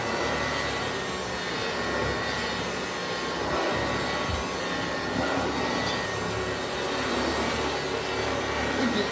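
A Hoover Junior 375 upright vacuum cleaner runs on a deep-pile carpet, giving a loud, steady motor whine and rushing airflow up close, continuous throughout with no voices.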